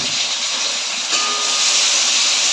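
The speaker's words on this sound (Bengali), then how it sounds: "তেলটা আমার গরম হয়ে গেছে, ওর মধ্যে আমি দেখুন একটু সর্ষে ফোড়ন দিয়ে দিচ্ছি।" Mustard seeds spluttering in hot oil for a kochur loti dish, a steady loud hiss and crackle of frying that swells slightly partway through, with no talking.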